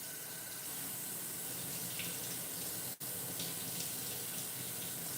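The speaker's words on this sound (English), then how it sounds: "Let me wash my hands" Tap water runs steadily from a faucet into a sink as hands are washed, a continuous close hiss with a brief break near the middle.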